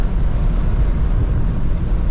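A Ford F-150 pickup truck with a 5.0 liter engine driving at night, a steady low rumble mixed with heavy wind buffeting, loud and continuous.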